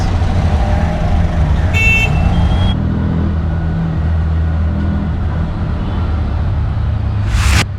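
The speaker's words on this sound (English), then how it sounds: "Totally mental traffic." Busy street traffic in Sri Jayawardenepura Kotte, Sri Lanka, rumbles loudly and continuously with passing engines, while a car horn honks once early on and a brief sharp sound rises near the end.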